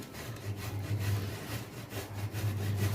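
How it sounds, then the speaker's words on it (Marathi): Peeled raw banana is rubbed against a grater for cutlets, a close rhythmic scraping in repeated strokes with a low hum beneath, no voices. "आता आपण ही किसून घेऊया"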